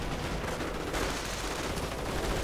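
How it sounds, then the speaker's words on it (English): Dense, continuous gunfire from a strafing run in a real-time strategy game match, loud and rumbling with overlapping bursts and no talking. "But that doesn't save him from the strafing run."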